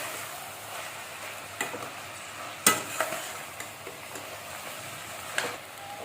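Chopped peeled cucumber pieces stirred in a pan for a curry, a steady soft sizzle broken by sharp scraping clicks of the spoon against the pan, with no talk.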